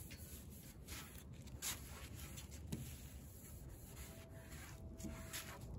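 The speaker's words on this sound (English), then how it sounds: "I'm going to use a tack cloth to remove all of that sanding dust." Soft, repeated rubbing strokes of a tack cloth wiping sanding dust off an MDF dresser, quiet and close, with a faint hiss between the swipes.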